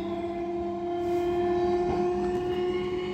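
An Amta local train pulls away from the platform toward Amta, sounding a long, steady, loud horn over the low rumble of the rolling carriages.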